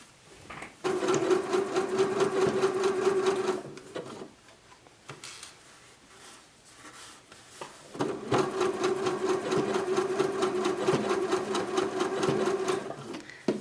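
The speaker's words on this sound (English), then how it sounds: "this edge guide makes it super simple to sew straight" A sewing machine runs in two long bursts with a pause between, its rapid mechanical stitching close and steady as it sews a hem on drapery fabric using an edge guide.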